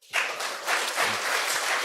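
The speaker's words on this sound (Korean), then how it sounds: "박수 한번 주세요" A congregation bursts into applause during a Sunday afternoon church service, a sudden onset of many hands clapping that holds steady through the brief moment.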